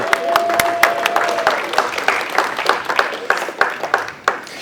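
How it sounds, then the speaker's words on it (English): An audience at a Labour Party conference applauds Young Labour, a steady patter of many hands clapping close and fairly loud across the whole stretch, with a brief tonal hum near the start. "Please applaud them. Applaud them."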